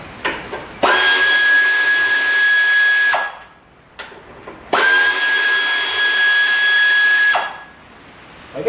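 Air tools remove bolts from a Kubota BX25D backhoe in two long, loud bursts of roughly two and a half seconds each, with a steady high whine and brief clicks and knocks between them. No one speaks.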